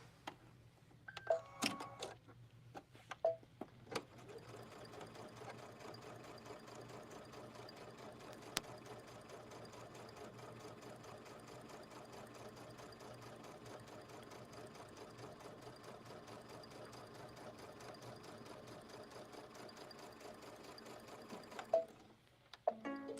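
A sewing machine stitches quilt blocks in a steady, continuous mechanical hum lasting most of the stretch, with a few clicks and handling knocks at the start and end.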